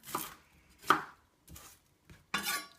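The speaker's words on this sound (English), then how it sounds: "I'm just going to dice half this onion real quick" A knife chops through an onion on a board in four separate strokes, close and crisp, with short pauses between them.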